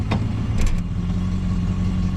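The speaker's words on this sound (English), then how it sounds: "That is in gear, low idle, and running smooth." A 1973 Dodge Dart Sport idles low and smooth in gear with a steady, loud, close rumble, interrupted by a couple of brief clicks.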